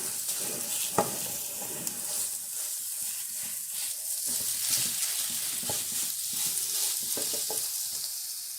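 Steady crackling sizzle of sausages frying in a pan, with occasional sharp pops and spits, close and continuous throughout.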